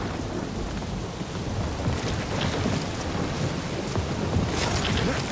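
Thunderstorm in the video game Marvel's Guardians of the Galaxy: steady heavy rain with low, rolling rumbles of thunder, continuous and fairly loud, with no voices.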